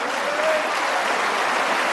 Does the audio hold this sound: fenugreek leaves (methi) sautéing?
no